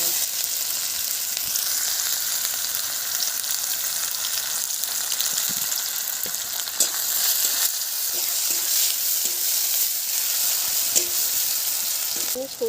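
Onion dropped into hot oil already tempered with dried red chilli and nigella seeds, a loud continuous crackling sizzle with occasional stirring clicks, close by.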